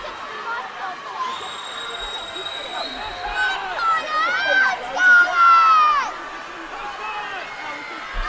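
Spectators at a county swimming championship cheer and shout in an echoing indoor pool hall, the noise swelling in waves and peaking near the end, with an announcer talking over it.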